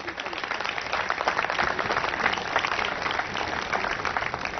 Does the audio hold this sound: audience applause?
yes